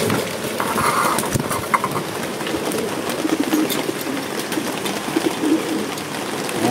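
A flock of many pigeons cooing, repeated soft low calls overlapping in a busy, continuous chorus at moderate distance, with some faint higher chirps and rustling mixed in.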